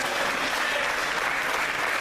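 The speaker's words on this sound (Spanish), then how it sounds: "Si lo va a aplaudir, apláudele con toda su fuerza, con todas sus ganas." A church congregation applauds at a worship service, a dense, steady wash of many hands clapping throughout, loud and close, with no voices standing out.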